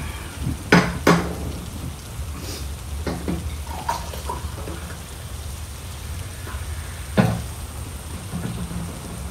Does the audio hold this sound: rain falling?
yes